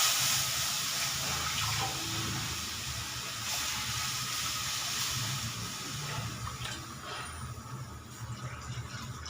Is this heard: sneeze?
no